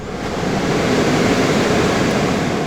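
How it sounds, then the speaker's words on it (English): Steady broadband wash of ocean surf on the coast of Spain, continuous and fairly loud with no speech. "Listen to that, you can actually hear the waves."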